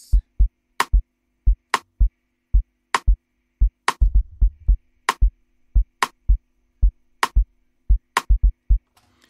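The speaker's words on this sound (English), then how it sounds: "I decided to combine the kick drum and my rim" A dry drum-machine groove: deep kick thumps alternating with sharp rim clicks in a steady, repeating pattern, with no other instruments.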